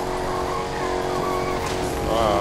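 A car drifting in a racing video game, a steady droning engine with tire squeal rising toward the end, loud and continuous.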